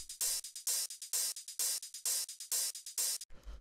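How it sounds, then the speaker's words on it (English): Closed hi-hat sample in an electronic beat ticks out steady 16th notes, bright short hisses with a pulsing accent pattern, quiet and isolated without other instruments or voices. "It's like a closed hi-hat."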